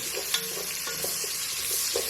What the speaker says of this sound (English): I feel like my onion's frying down here